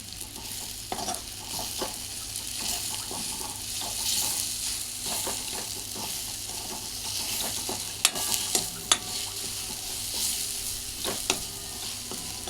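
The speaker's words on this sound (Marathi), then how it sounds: "थोडीशी हळद आणि एक चमचा तिखट घालून परता" Turmeric and chili powder being sautéed in oil in a pan for a green pigeon pea amti, with steady sizzling and repeated scraping and stirring clicks, close and without talk.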